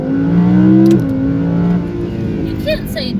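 An Audi R8 V10 plus launches hard, its engine roaring loud and close. The pitch drops at a gear shift about a second in, then the engine keeps pulling, with brief voices near the end.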